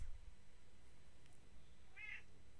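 House cat Mia gives a single short meow, faint and somewhat distant, over a quiet room with low background hum.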